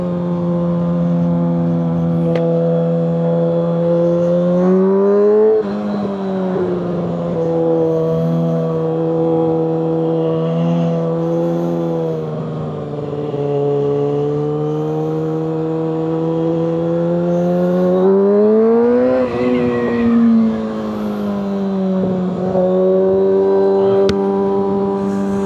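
Motorcycle fitted with an M4 slip-on exhaust, riding continuously at close range, its steady engine drone rising and falling with throttle changes and swelling in a brief rev near the end.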